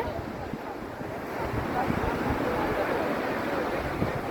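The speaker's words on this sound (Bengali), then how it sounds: "এই যে অনেক বাতাস এখানে সমুদ্রে" Strong sea wind buffets the microphone at a beach where parasailing takes place, a steady roaring rush with surf beneath it that grows slightly louder partway through and runs unbroken.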